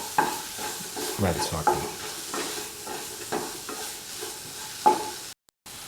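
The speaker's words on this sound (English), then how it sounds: "Crush the tomatoes" Tomatoes are crushed and stirred in a pan with a soft sizzle, giving irregular wet scraping and squelching strokes close by, a brief clatter of the utensil, then a sudden cut to silence near the end.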